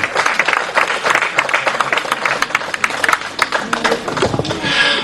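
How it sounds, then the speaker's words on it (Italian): Loud, lively applause from a fashion show audience cheering the models, dense rapid clapping with crowd noise, fairly close and sustained throughout. "Un altro applauso alle nostre meravigliose e fantastiche modelle e modelli"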